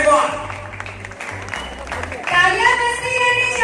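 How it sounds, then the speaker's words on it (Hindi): A stage-show audience claps continuously, a dense wash of applause under a talking emcee and some background music. "तालियां बजती रहनी चाहिए,"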